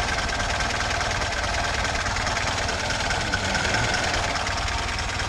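A VAZ-2106 engine with an idle-speed problem runs at a steady idle, a constant close mechanical hum and clatter with no talking.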